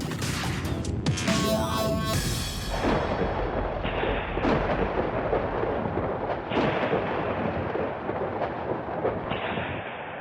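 Thunder from a lightning strike opens with a sharp crackling crash, then rolls into a long, low, rumbling boom with repeated deep surges that fade slowly.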